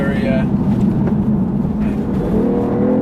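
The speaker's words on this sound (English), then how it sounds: "That's the noise you like. That's the good petrol engine." Driving from inside a BMW i8, its petrol engine revs with a loud, steady hum that holds throughout, with a rising tone near the end and road noise underneath.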